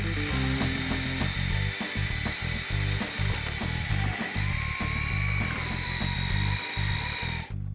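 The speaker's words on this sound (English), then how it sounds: "Instead of water, I'll mix it up using an acrylic additive," An electric drill churns floor underlayment mixed with acrylic additive instead of water, a loud, steady mechanical whir with a grinding, rattling texture that runs without pause for the whole stretch before cutting off at the end.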